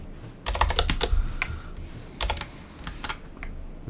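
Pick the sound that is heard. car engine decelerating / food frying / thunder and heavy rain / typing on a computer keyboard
typing on a computer keyboard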